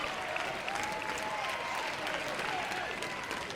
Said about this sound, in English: The crowd is up, sending encouragement to Chafin.